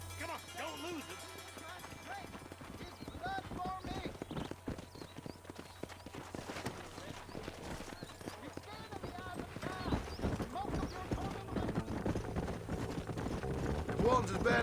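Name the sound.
horse galloping in Red Dead Redemption video game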